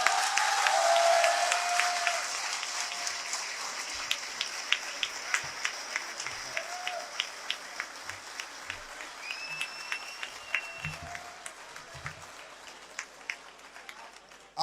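An audience at a mushaira poetry gathering welcomes poet Azhar Faragh with dense, loud applause that slowly thins into scattered individual claps over about fifteen seconds, with no voices.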